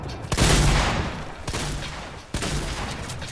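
Fortnite gunfire: three broadband shots, the first loudest and followed by a long noisy decay, the others sharper cracks about a second apart, all close and loud with a steady game-sound bed underneath.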